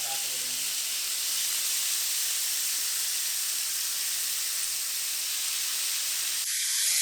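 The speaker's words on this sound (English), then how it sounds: "Basically just kind of stir frying it" Beef shawarma stir-frying in olive oil in a pan gives a loud, steady hissing sizzle that runs without a break and drops away sharply just before the end.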